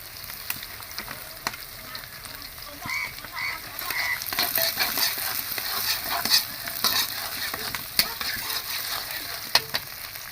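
Chopped green chilies hit onions already browning in a pan, making a steady sizzle broken by stirring scrapes and brief bursts of crackling that build toward the middle, with no one speaking.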